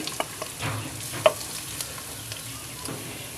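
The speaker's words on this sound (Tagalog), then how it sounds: "Lagay tayo ng mantika sa kawali. As usual, unahin ko itong ating bawang," Garlic frying in cooking oil in a pan, a soft steady sizzle with a few scraping stirs and light clicks, close and fairly quiet with no speech.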